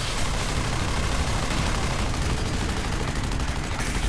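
Gunfire in the sci-fi shooter Section 8: Prejudice, a dense, continuous barrage of rapid shots and blasts filling the whole stretch, loud and close with no pauses.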